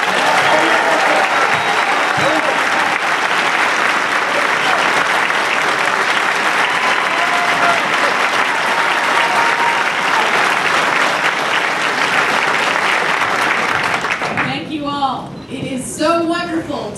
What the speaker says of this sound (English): Let's give a warm New Hampshire round of applause for Senator Kelly Ayotte.